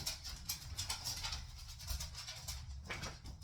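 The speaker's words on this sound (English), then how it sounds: "I got the dogs all pumped up." Excited dogs pant in quick rhythmic bursts of breathy huffs, close and fairly faint, with soft shuffling underneath.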